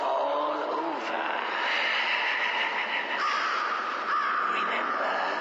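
Several crows caw repeatedly in a spooky Halloween setting, harsh overlapping calls at close range that continue throughout, with no talking.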